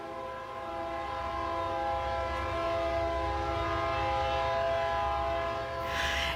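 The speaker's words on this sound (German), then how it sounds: "Wir hörten ständig die Züge vorbeifahren." A train rolls past just meters from a building beside the tracks, its horn sounding as a loud, steady multi-tone blare over continuous low rumble for several seconds, close and dominant.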